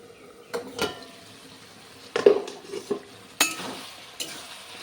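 A metal lid lifted off a pot of simmering bottle gourd, giving a few sharp clanks and scrapes spread out over several seconds amid soft kitchen noise.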